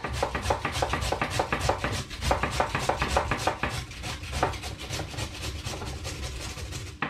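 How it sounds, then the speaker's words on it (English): Carrots being grated by hand at home, a steady run of dense, rapid scraping strokes close up that continues throughout, with no talking over it. "So grate your carrots, mind your fingers."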